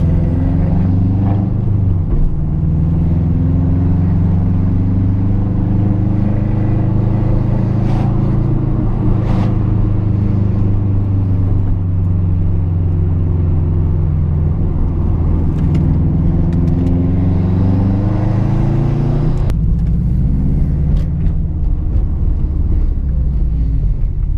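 A Subaru STI fitted with a Perrin pitch stop mount drives at low throttle, a deep steady engine rumble with slowly rising and falling tones and a brief rev change near the end, heard from inside the car.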